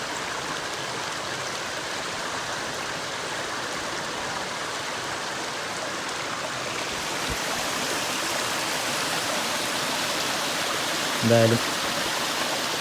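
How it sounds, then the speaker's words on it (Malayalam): Water flows at Marmala waterfall in Vagamon, a steady rushing roar throughout that grows slightly louder partway, with a brief word spoken near the end. "ചെറിയ രീതിയിലെങ്കിലും വെള്ളച്ചാട്ടം കിട്ടും."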